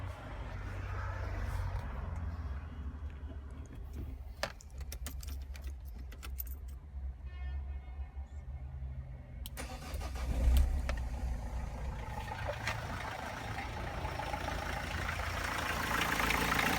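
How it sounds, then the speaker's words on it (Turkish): A Renault 1.5 dCi diesel car engine cranks over and settles into a steady idle, with keys jangling near the start and a low continuous engine rumble that strengthens after the engine catches. "Şimdi aracı çalıştırıyorum."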